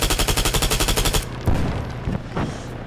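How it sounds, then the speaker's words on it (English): Rapid automatic fire from an HK MP7 in the ARMA 3 game rattles out in a tight, even burst of about fifteen loud shots, then gives way to quieter impacts and scattered thuds. "This gun is so powerful with ejected hollow points that those rounds were going through the plexiglass and hitting the guys on the opposite bench"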